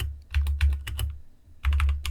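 Rapid typing on a computer keyboard, close and clear, with two bursts of quick key clicks separated by a brief pause, no voices.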